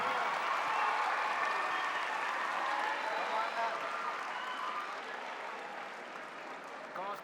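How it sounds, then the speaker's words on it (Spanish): A young audience at a peace conference claps steadily to welcome a speaker onstage, a dense, even wash of applause that slowly tapers toward the end. "Fuerte aplauso para recibirlo."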